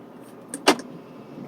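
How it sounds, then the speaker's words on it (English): A 2020 Range Rover Velar SV Autobiography Dynamic Edition locking in a parking lot: a brief faint click followed by a single sharp mechanical clunk as the door handles retract, then quiet. "the door handles go in"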